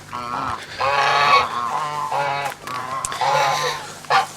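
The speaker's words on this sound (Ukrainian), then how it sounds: "Гусі йдуть додому." Several domestic geese honk repeatedly while walking home in a village, loud nasal calls overlapping in irregular bursts close by, with brief pauses between outbursts.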